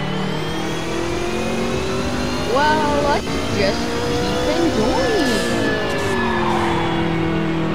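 A car engine revs and tires skid in a Roblox racing game, the motor droning steadily with rising and falling pitch sweeps and a brief squeal, while a person talks over it.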